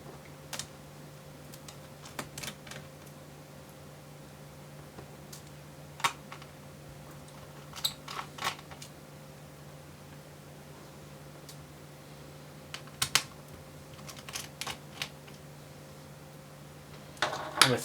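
Screws holding the battery of a Dell Inspiron 14 5406 2-in-1 laptop are undone by hand, giving scattered faint clicks and small metallic ticks over a quiet hum, with a few brief clustered taps.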